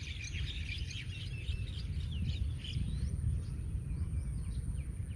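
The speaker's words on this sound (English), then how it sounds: "I hear the sound of water and birds singing." Birds sing outdoors in a natural setting, with many overlapping chirps and tweets at mid distance over a steady low rumble of ambient noise, continuous and without speech.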